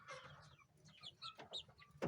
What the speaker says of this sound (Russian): Курочки, петушки.